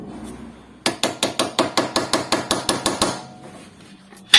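Steady hammer taps on the front shock absorber seat of a Honda CR-V third generation, about a dozen even, ringing metallic strikes in quick succession, close and clear, then a pause and one more knock.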